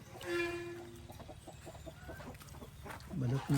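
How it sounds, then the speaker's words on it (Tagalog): Chickens clucking and a rooster-like call close by, with rustling and background noise; no clear talk. "Punta tayo sa manok."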